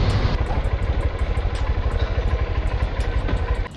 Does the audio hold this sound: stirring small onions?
no